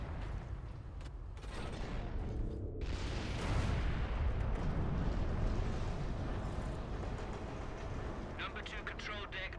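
Long-range cannon blasts in Warhammer 40,000: Space Marine roll out as a dense, rumbling wall of explosive noise, loud and sustained throughout with a swelling peak partway.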